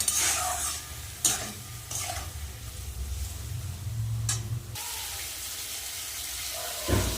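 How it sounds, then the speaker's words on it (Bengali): Pointed gourd cooking in a pan with red chilli powder, salt and green chilli, a faint steady sizzle broken by several short scraping stirs of the spoon, with no speech. "এই মশলাটা দিয়ে আগে কষিয়ে নেবো পটলটা"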